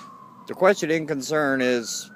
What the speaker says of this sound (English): all you can hear is a fucking cop siren